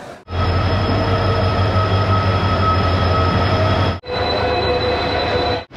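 Train noise at a railway platform for a Howrah–Adra–Chakradharpur service, a steady loud rumble with hum, broken by two brief gaps, no voices.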